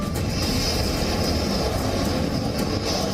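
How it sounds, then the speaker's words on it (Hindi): A Tejas fighter jet roars steadily in flight, a continuous loud broadband rumble with a high whine riding on top, unbroken for the whole stretch. "ये लड़ाकू विमान जब उड़ान भरता है तो दुनिया देखती रह जाती है"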